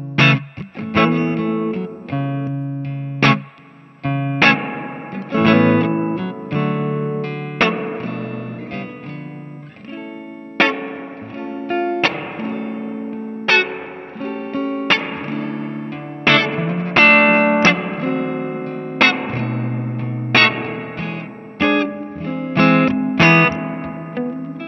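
An electric guitar played through a pedalboard with reverb and a preamp: clean, ringing chords and single notes struck in an uneven rhythm, each one trailing into a lush, spacious reverb tail, with no talking.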